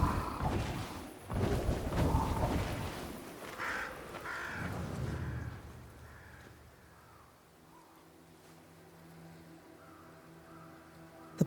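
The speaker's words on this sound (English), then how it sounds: "Crows. They flock to that great tree up there." Crows caw around a great tree in the video game Banishers: Ghosts of New Eden, with dense, loud bird and ambient layers over the first five seconds, then a quieter stretch that fades into low, steady background tones.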